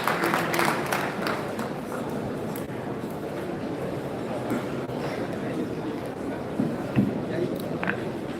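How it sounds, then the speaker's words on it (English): An audience at a mentorship summit in Kano gives a round of applause, a burst of clapping at the start that thins into scattered claps and murmuring room noise. "Please, a round of applause for Dr. Snusi Maladan."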